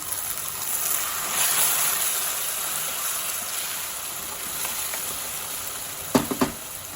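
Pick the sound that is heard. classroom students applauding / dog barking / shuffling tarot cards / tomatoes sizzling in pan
tomatoes sizzling in pan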